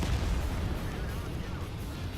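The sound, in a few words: tank cannon firing rounds in a video game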